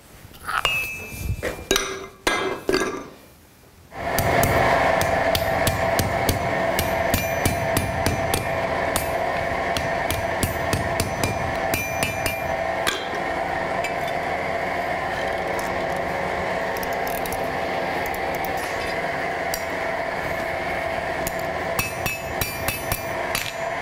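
A small hammer strikes metal while a horseshoe is being made, in a rapid, steady stream of sharp taps, close and continuous, after a few scattered knocks at the start.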